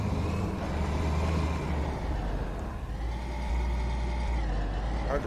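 A garbage truck in the video game Defiance 2050 drives with a steady, loud, heavy engine rumble and road noise that fills the whole stretch without a break.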